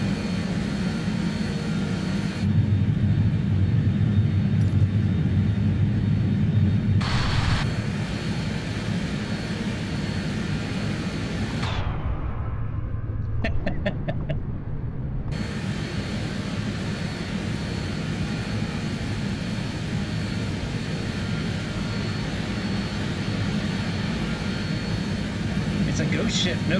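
BAE 146 jet engines in Microsoft Flight Simulator 2020, heard from inside the cabin as a steady, loud roar with a broad hiss whose tone shifts a few times, one brief dip midway, and no talk over it.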